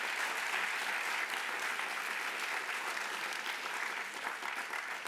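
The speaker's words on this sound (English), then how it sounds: "a round of applause as they're coming off the" Steady, dense applause from a conference audience for departing panelists at a Latino entrepreneurship forum, continuous and even for about five seconds with no voices standing out.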